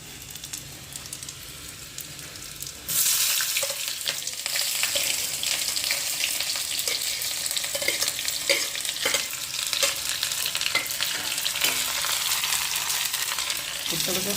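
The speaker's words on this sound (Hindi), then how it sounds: "सबसे पहले इसमें डाल देते हैं जीरा, लहसुन छील रखा हमने" Cumin and garlic hit hot oil for an Indian tadka, a loud, steady crackling sizzle that jumps up sharply early on and keeps spitting with small pops and stirring scrapes throughout.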